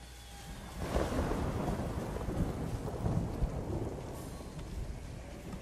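Thunder rumbles through a steady downpour in the Ghost of Tsushima video game, a loud low roll swelling about a second in and lingering over continuous rain hiss.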